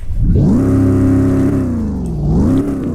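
A 1969 Ford Mustang Boss engine in Roblox revs up loudly, holds a steady high drone, dips, then climbs again in a smooth synthetic rise and fall, close and alone.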